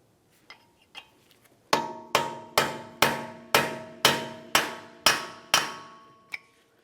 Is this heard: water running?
no